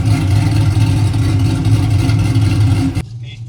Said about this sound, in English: We're gonna do a startup and we're gonna take it out and take it for a spin.